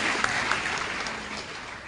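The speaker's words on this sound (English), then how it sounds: "let's have some clapping" Applause and clapping from the audience at an AA speaker roundup meeting, a short burst of dense, fairly even clapping heard from within the crowd.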